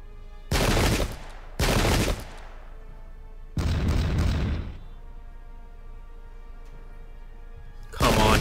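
Musket volleys from massed ranks in the Pike and Shot game, set at the 1798 Battle of Vinegar Hill: four loud, dense crackling bursts, each about half a second to a second long, separated by quieter pauses, with no talk.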